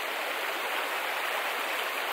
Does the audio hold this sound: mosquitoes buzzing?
no